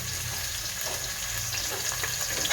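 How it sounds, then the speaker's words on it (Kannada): Ginger garlic paste frying with green chillies in hot oil gives a soft, steady sizzle at close range, fairly quiet and continuous, with no voices. "ನೋಡಿ, ಶುಂಠಿ ಬೆಳ್ಳುಳ್ಳಿ ಪೇಸ್ಟ್ ಹಾಕ್ತಾಯಿದ್ದೀನಿ"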